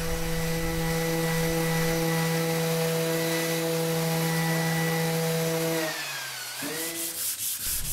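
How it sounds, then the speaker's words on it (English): A random orbit sander whirs steadily on a part of a Stuart Turner Number 8 mill engine for several seconds, then winds down and restarts briefly, a close, constant mechanical drone with no voices. "The final process was done with a random orbit sander"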